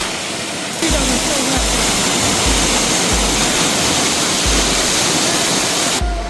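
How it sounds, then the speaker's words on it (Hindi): Waterfall at a hidden coastal spot in Cornwall, a steady, dense roar of falling water rushing close by with continuous broadband hiss, nearly uniform in loudness throughout. "और ये देखें जी वाटरफॉल"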